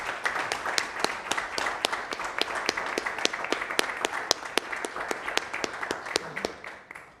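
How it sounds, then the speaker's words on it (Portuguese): An audience at a municipal public hearing gives a round of applause in tribute, steady dense clapping lasting several seconds before tapering off, with no voices over it. "eu gostaria também uma salva de palmas para o Biro, que faleceu."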